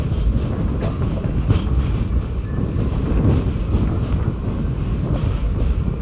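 A passenger train pulls away from Sudiyur station after a one-minute halt, with steady wheel rumble and faint rhythmic clacking heard from aboard, continuous and moderately loud.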